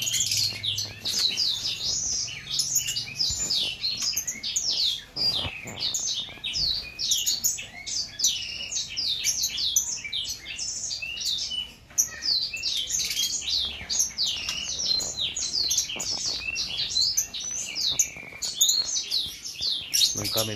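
Newly hatched white-rumped shama chicks from Aceh chirp continuously at close range, a dense stream of high, rapid tweets running without pause.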